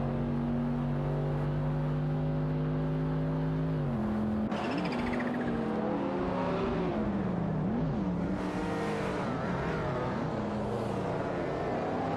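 Ferrari 512 TR and De Tomaso Pantera race cars in a video game race roar continuously, one engine holding a steady drone before shifting, then rising and falling revs as cars overlap and pass.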